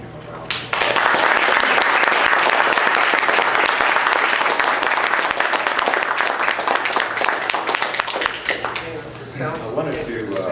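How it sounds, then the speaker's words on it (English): An audience at a comics convention panel applauds comics artist Murphey Anderson, a loud, sustained round of dense clapping that starts abruptly and carries on throughout, thinning slightly toward the end. "I hope you join me in giving him a round of applause."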